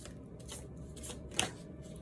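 Tarot cards shuffled by hand, a soft close rhythmic flutter of sliding cards with one sharper tap near the end, over a low steady hum.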